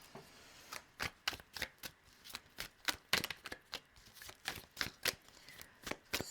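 Tarot cards are shuffled close up, a rapid run of crisp riffling slaps and flutters repeating steadily over several seconds in an otherwise quiet room.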